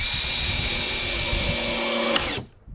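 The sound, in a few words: power drill driving screws into a wooden planter box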